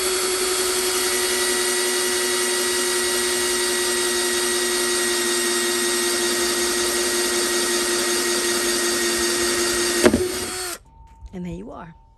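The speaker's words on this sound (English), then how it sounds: "I usually just drill it in backwards." Power drill boring a hole in a plastic bucket in a garden: a steady loud whine lasting about ten seconds, then it stops and a person speaks briefly.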